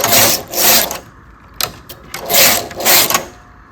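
A knitting machine working ruffles, its carriage swept back and forth across the needle bed in loud rasping passes, with a few sharp clicks between strokes, close and without talk.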